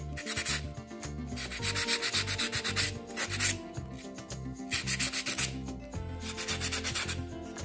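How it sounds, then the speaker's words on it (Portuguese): A small cement note holder is sanded by hand to smooth its sharp edges, giving rhythmic scratchy rubbing strokes in quick bursts with brief pauses, close and clear with no talking. "Vou dar uma lixadinha assim para não ficar essas pontas"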